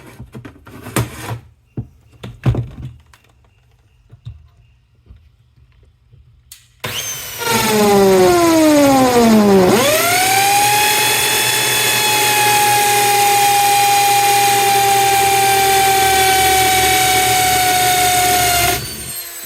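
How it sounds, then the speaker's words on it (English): An old electric drill, probably from the early 80s, boring through material: after some quiet handling noises it starts with a falling whine, then runs at a loud, steady, high-pitched drone for about ten seconds before stopping. "we're gonna drill through a little area"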